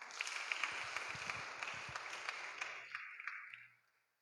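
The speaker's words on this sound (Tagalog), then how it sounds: "Palakpak." Church congregation clapping together, a dense patter of many hands that is loud at first, then thins and fades out to silence near the end.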